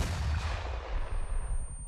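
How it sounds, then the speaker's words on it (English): A rocket launcher fires at a Humvee in ArmA 3, producing a heavy, booming blast followed by a deep rumble that rolls on and fades. "doing rocket on the Hummer in 3"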